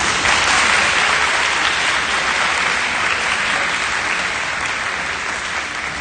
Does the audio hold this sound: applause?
yes